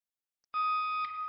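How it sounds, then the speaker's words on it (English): A car's parking sensor gives a single sustained electronic beep while reversing into a spot, sounding suddenly after a brief silence and holding clear and close for most of the clip. "Where's the little beep sound?"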